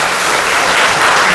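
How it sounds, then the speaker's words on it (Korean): A church congregation applauds in welcome during a Sunday worship service, a loud, dense, steady burst of clapping from a full room. "오셨다고 환영의 박수 한번 하겠습니다"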